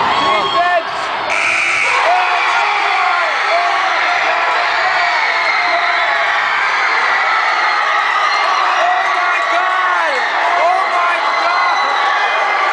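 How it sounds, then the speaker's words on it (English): Crowd at a basketball game cheering wildly after the final shot, a dense sustained roar of shouts and whoops, loud and close, with a buzzer-like tone near the start and excited voices mixed in. "The crowd is going wild!"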